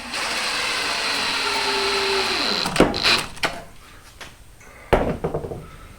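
A power driver whirs steadily as it sinks a screw into a rustic wooden picture frame, then winds down and stops, followed by a few sharp clunks and knocks of handling.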